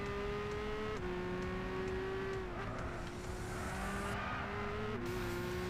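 A classic car accelerating in Gran Turismo 6 during a city trial race, a loud sustained engine drone that climbs in pitch through successive gear shifts, with no talking over it.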